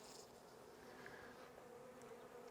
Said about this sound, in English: oh, there's a wasp